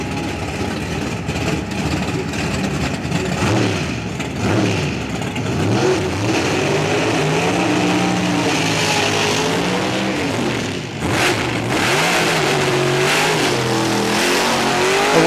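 A 2,000 horsepower pro stock drag car at a drag racing event revs, launches and accelerates hard, its loud engine note rising and shifting through gears, then fading and returning over several seconds with no talk.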